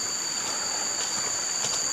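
A small forest river, recently cleared, flows with a steady, soft rushing wash heard up close at low volume, with no voices over it.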